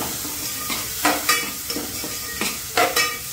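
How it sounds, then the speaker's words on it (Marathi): Onions fry in a pan with a steady sizzle while a spoon stirs them, scraping and clinking close by in irregular strokes several times over a few seconds. "सो ओनियन न्ही बरो मोव जायसर बरो तळसून घेवपाचो."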